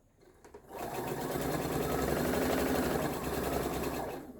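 A sewing machine starts up after a brief pause and runs steadily at a slow, even pace, stitching a quilted snail trail block with a continuous close mechanical whir and no voices.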